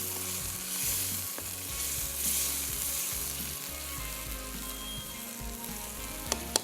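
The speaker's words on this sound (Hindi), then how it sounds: "प्याज का पेस्ट डालने के बाद इसको अच्छे तरीके से हमने भूनना है।" Onion paste frying in a pot for beef pulao, a steady sizzle that stays moderately loud throughout with a low hum underneath and a couple of sharp clinks near the end.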